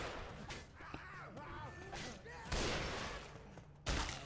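Explosive sniper rifle rounds fired in Left 4 Dead 2 down a long hospital hallway at a horde, a few loud sharp blasts standing out over a busy game mix with voices talking.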